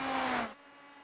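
Formula 3 race cars in a simulated championship at Spa-Francorchamps climb a hill in slipstream, a loud engine whine that drops sharply halfway as a car passes, leaving a fainter steady drone.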